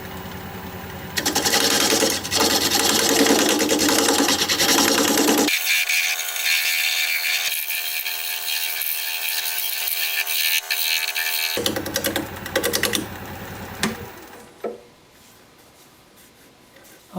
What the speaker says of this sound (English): I'll just try shear scraping this.